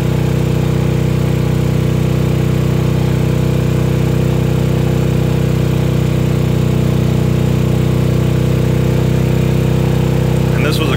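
Honda EU2000i inverter generator, started cold, runs steadily while an air compressor builds pressure on it, a loud constant engine drone with a low hum that barely changes, close by, with no talk over it.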